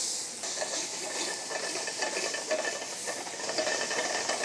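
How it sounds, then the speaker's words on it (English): Vegetables searing in a pan of oil heated just past its smoke point: a loud, continuous hiss with a faint crackle, heard alone with no talking. "I want a really hot searing saute on this."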